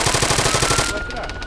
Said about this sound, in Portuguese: Vou atirar.